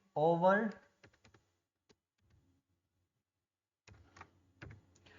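Computer keyboard typing while text is entered into an MS Excel salary sheet: a few scattered, faint key clicks after a burst of speech, then a short cluster of soft taps near the end.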